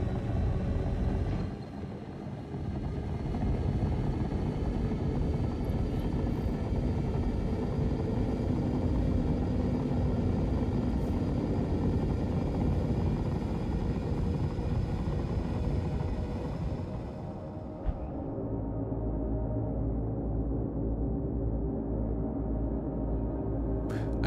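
Spacecraft engines in Star Citizen roar steadily after takeoff, a loud broad rumble that holds for most of the stretch, then drops abruptly to a lower, quieter hum near the end.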